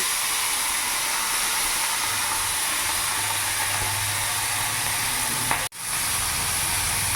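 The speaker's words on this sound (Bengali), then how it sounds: "এবার তেল গরম হয়ে গেছে আমি তেলের মধ্যে মোরলা মাছগুলো দিয়ে দেবো" Morola fish coated in salt and turmeric frying in hot oil, a steady loud sizzle and hiss that runs throughout with a brief break near the end.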